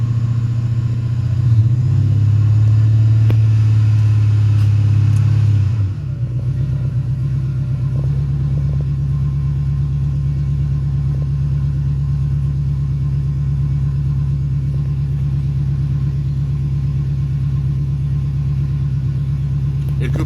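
A car engine idles high and steady, its RPM stuck up and refusing to drop while in drive, with a rough, louder patch at the start that settles into a constant droning hum.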